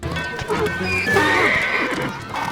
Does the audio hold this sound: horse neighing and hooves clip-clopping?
yes